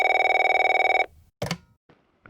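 A telephone bell rings in a rapid, continuous trill for about a second, then stops, followed by a couple of brief handling clicks and near silence.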